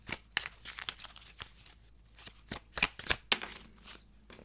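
A deck of chakra cards is shuffled close by, making crisp, papery riffles and slaps in uneven bursts against a quiet background.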